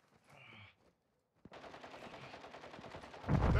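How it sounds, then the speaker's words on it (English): Automatic gunfire rattles in a military video game: a short burst, a brief silence, then a sharp shot followed by rapid continuous firing that swells louder at the end. "Working at him, taking effective fire!"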